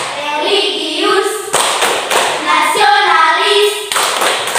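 Group of schoolchildren and teachers at an elementary school doing the Tepuk PPK rhythmic clap chant, bursts of patterned clapping alternating with chanted voices, loud and close, repeated in quick measured phrases.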